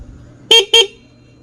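Two short, loud car horn honks from an aftermarket loud horn in quick succession, close by, followed by quiet.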